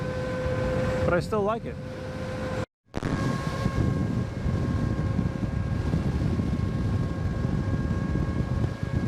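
A Veteran Sherman electric unicycle gives off a loud, steady drone and whine while being ridden, with wind buffeting the microphone. The sound cuts out briefly once, and someone talks over it for a moment.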